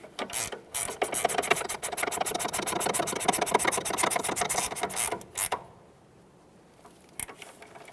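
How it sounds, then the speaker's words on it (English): A wrench tightening the strut nut on a 2010-2013 Kia Forte Koup, 5mm held in the center and 18mm on the outside, sounding as a rapid, loud ratcheting rattle that runs for about five seconds, then stops. "To snug this, just use our 5mm in the center, 18mm along the outside for that nut."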